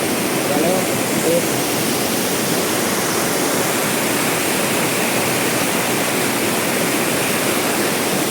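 A steady, dense rush of falling water roars without pause, broadband and loud, standing near a waterfall at Maredumilli.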